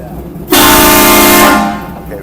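A loud air horn fitted to a 1958 Cadillac with an LS engine swap and air ride blasts once for about a second, close and dominant, then fades, with brief talk around it.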